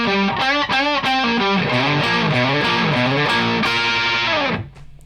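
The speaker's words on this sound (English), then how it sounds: "Okay, so the second little phrase or chunk of the riff goes like this." Distorted electric guitar riff phrase played as a continuous run of bending, sliding notes with effects-laden tone, loud and close, ending with a brief fade.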